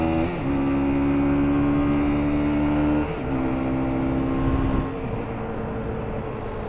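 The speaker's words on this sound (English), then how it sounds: "A lot of traffic for this lane." Cars in road traffic pass close by, a loud droning engine tone that holds steady, drops and shifts as each vehicle goes past, with no talking.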